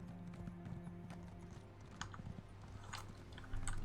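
Horse hooves clop steadily while riding in the Elder Scrolls Online video game, a fairly faint, continuous rhythm of hoofbeats over a low ambient game hum, with a few brighter knocks toward the end.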